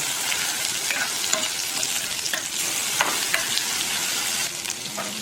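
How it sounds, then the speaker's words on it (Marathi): Spice paste with curry leaves and asafoetida frying in hot oil for a Maharashtrian bhajji amti curry, a continuous loud sizzle with intermittent scraping stirs, no talking. "आता या वाटणाला आपण तेलात परतून घेऊ."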